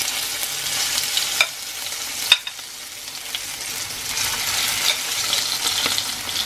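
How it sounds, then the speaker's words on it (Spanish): Boiled potatoes for garlic-and-lemon potatoes tumble into a pan with a sharp clatter, then sizzle and scrape as they are stirred, a steady close hiss with occasional utensil knocks. "Las papas ya están cocidas y ahorita las vamos a agregar en la cacerola."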